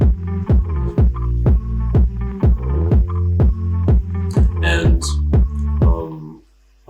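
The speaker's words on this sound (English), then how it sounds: "and then I layered this bass guitar" A layered bass guitar rides over a steady kick drum, the low thumps landing in an even, driving pulse with sustained bass tones between them, loud and close before cutting off near the end.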